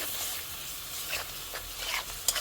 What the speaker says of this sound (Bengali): এবার খুব ভালো করে আমি এই মশলা কষাবো